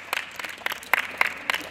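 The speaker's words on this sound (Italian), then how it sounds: "Applauso!" Short burst of applause from a small group at a gymnastics club challenge, several separate claps in an uneven rhythm, close and fairly light.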